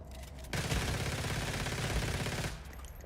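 Sniper rifle fire in the video game Once Human, a dense, loud burst of shooting lasting about two seconds that starts and stops abruptly.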